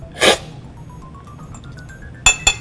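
A spoon clinks against a coffee cupping bowl at a coffee roastery: one bright ring near the start, then two quick clinks close together at the end, loud and close with no talking.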